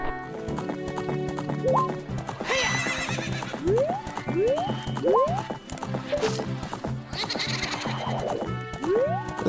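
A horse in Zelda: Ocarina of Time whinnies several times over steady clip-clop hoofbeats, with sheep-like bleats mixed in and rising neigh calls repeating through the stretch, fairly close and moderately loud.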